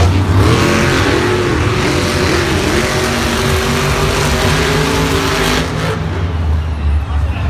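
Monster trucks roar through a Monster Jam racing round in Tampa, loud engines revving and surging continuously for the whole stretch, with a faint crowd and announcer bed underneath.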